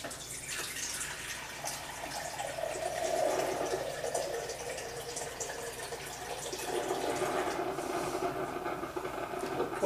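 Water pours into a Vitamix blender in a kitchen, a faint, continuous splashing and trickling stream that swells and eases over several seconds, with no voices.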